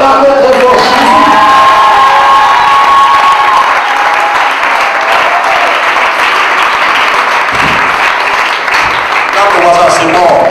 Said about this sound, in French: Est-ce qu'on peut acclamer très fort Jésus?